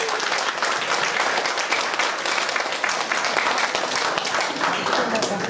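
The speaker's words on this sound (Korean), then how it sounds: "큰 박수 부탁드리겠습니다" Sustained applause from guests at a wedding ceremony, dense and steady clapping from a sizable crowd lasting the whole stretch, with some voices mixed in beneath.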